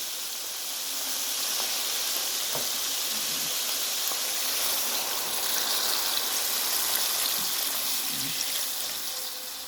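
Water poured into a pan of mutton karahi with fried garlic and ginger, a steady hiss and sizzle of liquid hitting the hot pan that continues evenly throughout, with no talking.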